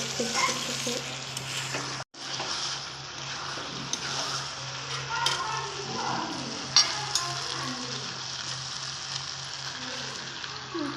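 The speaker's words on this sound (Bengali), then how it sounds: "দেখো কষানো হয়ে গেছে মাংসটা" Meat being fried and stirred in oil for a kosha curry, a loud continuous sizzle with scraping stirs running throughout, broken by a brief gap early on, and no talking.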